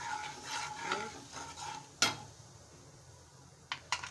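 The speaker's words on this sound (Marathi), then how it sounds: "आता ह्याच्यात मी हळद पावडर घालत आहे लाल तिखट घालत आहे मिश्रण छान एकजू करून घेऊया आपण" Turmeric and red chilli powder being stirred into fried curry leaves in a pan for puffed rice chivda, quiet scraping and a soft sizzle with a sharp spoon clink against the pan and a couple of lighter taps, no voices.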